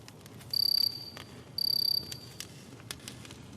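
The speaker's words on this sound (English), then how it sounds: "we're hearing those crickets with no reverb applied" Two short bursts of high, rapid video game cricket chirping with no reverb, over a faint, quiet background with scattered soft ticks.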